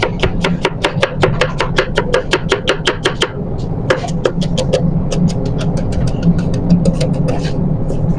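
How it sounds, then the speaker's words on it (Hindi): Onions being finely chopped with a knife on a board, a rapid run of sharp, evenly spaced close taps that pauses briefly and resumes, with a low steady hum beneath. "इसको बिल्कुल बारीक आपने प्याजों को काटना है"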